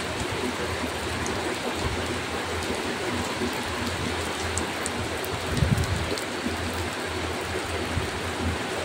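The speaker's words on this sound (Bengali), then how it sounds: "আজকেও দেখেন বৃষ্টি হচ্ছে কত" Steady rain falls continuously, a dense even hiss of drops on surfaces, close and unbroken throughout.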